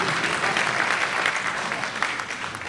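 An audience at a community gathering claps steadily, a dense, even patter of many hands that holds at moderate loudness throughout with no voices over it.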